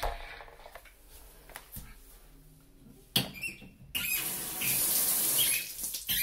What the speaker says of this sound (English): time to turn on the water and see how it goes